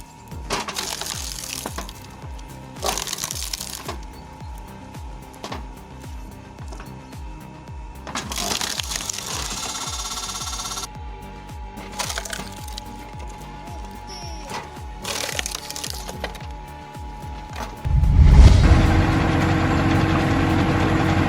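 A homemade wood chipper chews through hardwood logs in repeated loud bursts of grinding and crunching over a steady engine drone, each log feeding in for a few seconds before the machine settles back toward idle.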